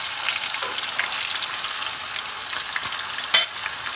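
Beef frying in oil sizzles steadily and fairly loudly up close while the pieces are turned, with a couple of sharper scrape-and-spatter accents near the end.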